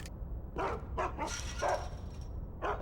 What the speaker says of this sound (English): Dogs that can see our souls.